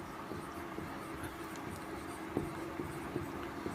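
A maths equation is written out by hand, giving a faint, steady scratching of pen or chalk with a few small taps in a quiet room.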